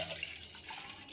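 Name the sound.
water being poured into pani puri mix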